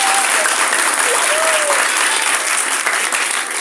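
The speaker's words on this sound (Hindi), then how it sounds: "चलेंगे इन दोनों के लिए जोरदार तालियां।" A classroom audience of children and teachers bursts into loud, dense clapping for two Bible quiz teams, a close continuous roar of hands with a faint voice briefly audible above it.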